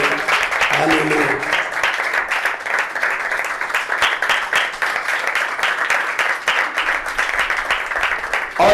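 Sustained applause from a church meeting congregation welcoming a pastor, steady dense clapping throughout with voices mixed in beneath it.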